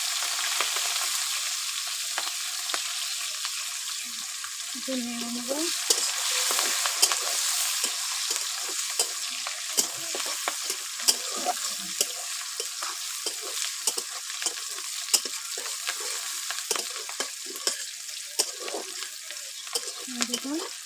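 Chopped onions and green chillies for a fish curry sizzle and crackle continuously in hot oil, with frequent stirring scrapes and clinks of the spatula against the pan.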